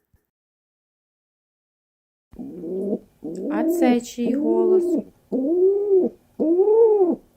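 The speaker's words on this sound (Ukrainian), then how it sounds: "Так, це голуб." Five calls from a pigeon, each a soft, rounded coo, come in a steady run and sit close and fairly loud after a child's short spoken question.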